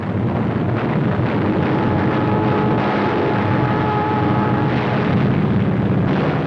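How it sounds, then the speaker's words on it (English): Loud, continuous roar of navy aircraft engines as planes take off on a 1941 battle mission, a dense rumbling drone with wind noise throughout. "The planes take off on a daring battle mission"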